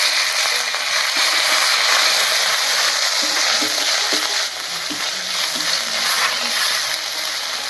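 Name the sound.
ginger, turmeric and spice paste frying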